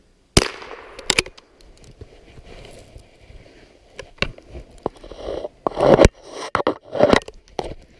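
.22 rifle firing shorts single-shot in a snowstorm: one sharp, fairly quiet crack near the start, followed by scattered clicks, handling clatter and wind-swept rustle close to the microphone.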